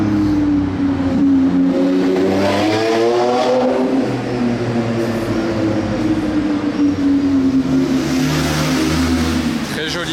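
A Lamborghini Revuelto V12 supercar roars past on the Monaco streets, a loud, brutal engine note rising and sweeping through as it accelerates, with a rumbling drone and faint background chatter under it.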